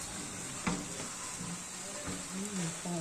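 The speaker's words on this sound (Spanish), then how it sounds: "Ahora vamos a echar el pescado. Está frito el pescado con este grano." Fried fish is tipped into fried rice in a hot pan and stirred, with a steady sizzling hiss, a sharp scrape of the utensil and a voice talking over the cooking.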